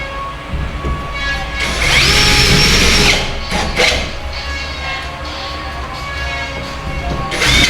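A power drill drives screws overhead into a ceiling, with a loud close whir that rises and stops in short bursts over a busy background.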